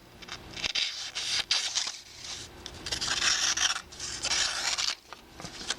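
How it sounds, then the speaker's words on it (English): A handmade knife is honed with irregular rasping, scraping strokes, some sharp and some drawn out, heard up close and at moderate loudness with no talking. "And we can still keep honing this knife."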